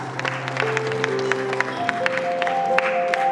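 Audience applause at a school prize distribution ceremony, a steady patter of many hands clapping at moderate distance, with background music tones sustained beneath the clapping throughout.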